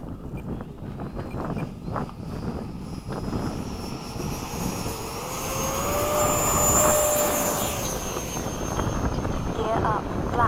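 An FMS 80mm Hawk model jet takes off, its ducted-fan whine building and holding steady with a rising pitch sweep, loud and continuous, with people talking beneath it.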